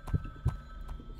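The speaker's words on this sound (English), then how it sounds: "No, there's a heartbeat." Heartbeat effect in a ghost-hunting video game set in a police station, with two low thumps close together followed by a quieter pulse, heard alone without talk.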